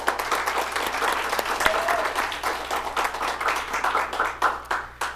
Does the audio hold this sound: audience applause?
yes